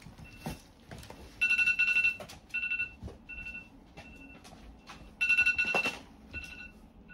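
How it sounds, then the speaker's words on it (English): A mobile phone ringtone goes off during a 1:8 scale DeLorean model build, sounding in repeated bright melodic bursts with short gaps, moderately loud over a quiet room with occasional small clicks and handling noises. "my phone went off"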